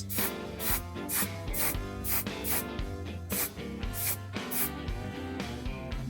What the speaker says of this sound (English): Give it another hairspray shot.